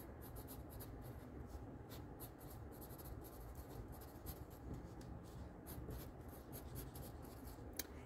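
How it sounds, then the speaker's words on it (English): A name is written on paper with quick scratchy pen or pencil strokes in short bursts, with brief pauses and light rubbing between them, close and quiet. "write our name."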